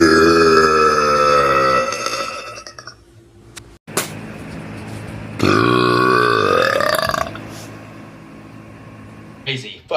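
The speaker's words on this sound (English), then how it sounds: "I burped." A person lets out loud, drawn-out burps, one long croaking belch followed by a second rising one after a short pause, close to the microphone with a brief clatter at the end.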